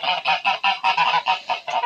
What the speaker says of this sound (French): voilà les oies de Toulouse sans bavette